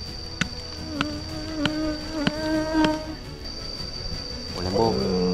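Bees swarm around a ground bee nest dug out of a stream bed: a steady, close insect hum with a few sharp clicks from digging, and voices rise near the end.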